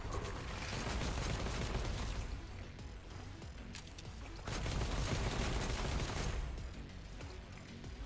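Gunfire in a boss battle in the video game Anno: Mutationem, a steady barrage of rapid shots and impacts that continues throughout at fairly even loudness, with no talking.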